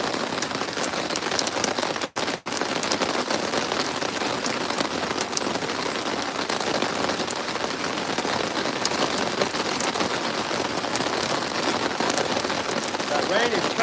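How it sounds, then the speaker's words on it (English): Heavy rain pours steadily and loudly onto an outdoor boat, a dense, unbroken hiss that holds for the whole stretch, with one brief dip near the start. "That rain is coming down."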